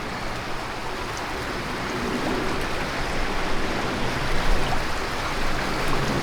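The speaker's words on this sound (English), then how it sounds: "A lazy river." A flowing stream after rain rushes steadily as a broad, constant wash of water, fairly loud and close, swelling slightly midway with no voices.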